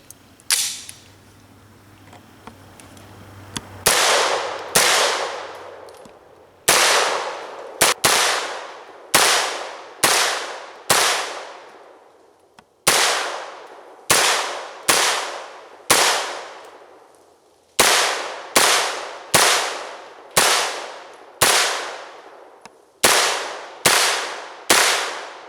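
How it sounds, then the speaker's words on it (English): A Sig Sauer MPX P 9 firing a long string of sharp, loud single shots at irregular intervals, each crack ringing briefly before the next, after a few seconds of quiet mechanical handling at the start. "So we're going to load this up and do some shooting here shortly"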